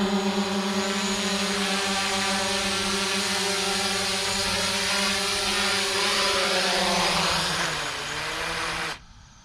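A drone hovers close and descends onto a helipad at Pattaya Air Park, its steady loud buzzing whine holding for several seconds before cutting off abruptly near the end.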